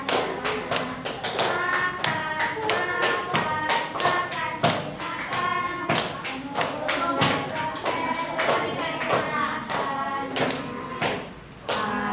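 A group claps hands in steady, fairly quick rhythmic beats for about twelve seconds, the claps near and crisp, with a voice faintly mixed in under them.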